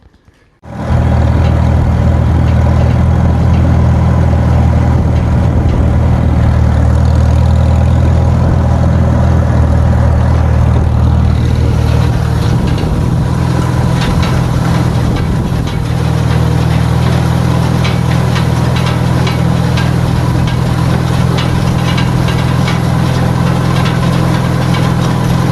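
A tractor engine drones loud and close with a deep steady rumble for the whole stretch while raking hay into rows ahead of the baler, the pitch shifting slightly partway through and no talking.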